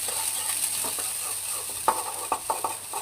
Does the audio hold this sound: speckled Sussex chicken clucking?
no